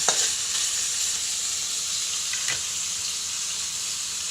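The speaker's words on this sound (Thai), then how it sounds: "รอสักแป๊บหนึ่งเนาะค่ะเนาะ ให้หมูสุกก่อนพี่น้อง" Minced pork fries in a pan with a continuous, even sizzle close by, broken by a couple of faint clicks, with no voices present.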